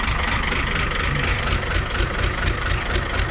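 A 1975 Chevy stepside pickup's diesel engine idles very slowly, a dense, rough, steady rumble with a knocking texture, heard close and alone without any voices.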